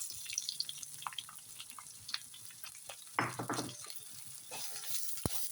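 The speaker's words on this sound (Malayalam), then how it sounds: "ഇന്ന് നമുക്ക് സവാള ഇടാം." Onions drop into a hot pan for frying in a Kerala-style kitchen. They land with a soft thud and a burst of sizzle, followed by light crackling, stirring scrapes and a sharp knock near the end.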